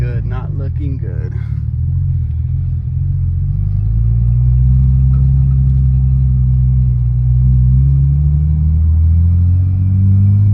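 A manual-swapped Nissan R34 25GT pulling away in first gear, giving a close, steady low engine drone that rises gently in pitch as it accelerates, with someone speaking briefly at the start.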